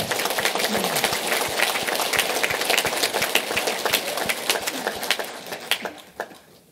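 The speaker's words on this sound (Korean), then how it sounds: "우리 모두 감사의 박수를 올려드리십시다" A church congregation at a New Year service applauds loudly and steadily, dense clapping from many hands filling the space before tapering off at the end.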